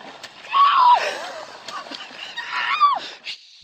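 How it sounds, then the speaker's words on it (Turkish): A woman screams at a fish caught on her line while fishing on a river with her husband, giving two loud, shrill, wavering shrieks, close by amid rustling and splashing. "oltaya takılan balığı görünce çığlık atmaya başlıyor"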